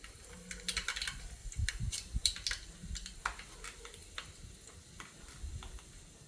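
Mustard seeds popping and sputtering in hot oil while cooking avalakki upittu, a scatter of sharp irregular crackles and pops, close and fairly quiet, with no talking.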